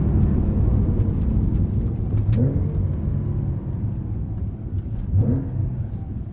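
Inside a 2023 Porsche 911 Carrera T with manual gearbox while driving, a steady low engine and drivetrain drone fills the cabin, rising in pitch twice as the car accelerates through gear changes.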